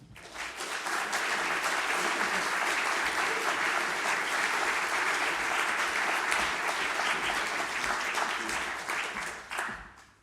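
Sustained applause from a conference audience fills the room, with dense clapping that swells quickly and holds steady before tapering off near the end.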